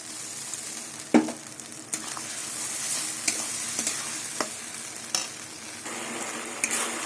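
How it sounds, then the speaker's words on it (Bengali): Spice paste with garlic and green chillies sautéing in a pan, a steady crackling sizzle throughout with repeated scraping strokes of a spatula stirring it, close and fairly loud, with no talk. "ভালো করে মশলা দিয়ে কষিয়ে নেবো রসুনের কাঁচা গন্ধটা চলে যাওয়া অবধি মশলাটা কষাতে থাকবে"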